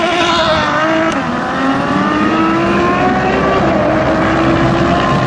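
A McLaren Senna and a Ferrari F12 TDF hypercar drag racing with loud, roaring engines rising in pitch as they accelerate, heard close and continuously with wind buffeting.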